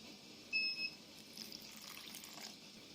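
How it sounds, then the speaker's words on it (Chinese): Cooled boiled water trickles into hollowed pears in a bowl, each already filled with lily bulb, kumquat and rock sugar, a soft steady pour with a brief brighter splash near the start, fairly quiet and alone. "加入凉开水"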